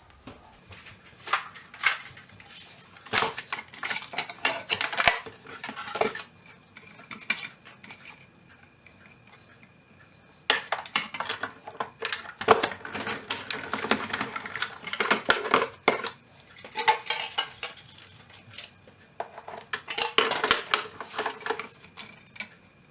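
Big Shot die-cutting machine cranking foil sheet paper through a scallop square die, giving bursts of rapid clicking and grinding that stop and start in three runs with quiet pauses between.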